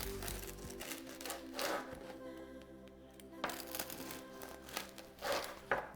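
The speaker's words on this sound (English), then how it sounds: "we're gonna go ahead here and cut up this bread" Knife sawing through a soft loaf of bread, with crackly scraping strokes and crumbly crunches in irregular bursts, close to the mic, with faint clatter in the background.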